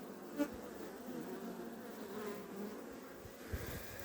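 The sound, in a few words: honey bees buzzing around a beehive carrying pollen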